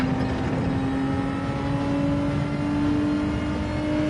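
Racing car engine held at full throttle around Yas Marina in a video game, a loud steady high-pitched drone with sustained tonal harmonics and no break over several seconds.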